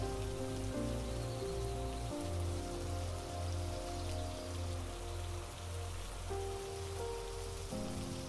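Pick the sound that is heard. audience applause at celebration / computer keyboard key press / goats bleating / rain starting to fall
rain starting to fall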